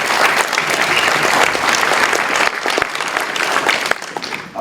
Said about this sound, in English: Pablo and Justice, these guys need another big round of applause